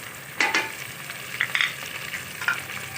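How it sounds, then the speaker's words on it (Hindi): Ground spice masala with fenugreek seeds, salt, chilli powder and turmeric fries in a pan, with a close crackling sizzle broken by several sharp scraping stirs of a spoon. "ये सब मसाला भून रही है इसको"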